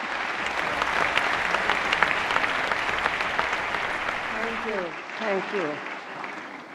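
Loud, dense audience applause at the Dadasaheb Phalke Award ceremony, sustained for several seconds before tapering, with a voice speaking briefly over the clapping near the end.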